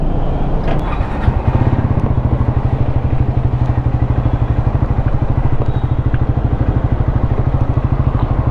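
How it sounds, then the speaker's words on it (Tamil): A Triumph Scrambler 400 X motorcycle engine runs close and loud with a steady, rapid thumping exhaust pulse throughout. "ஸோ ஸ்க்ராம் 400 ஃபைனலாக ஓட்டுறேன்."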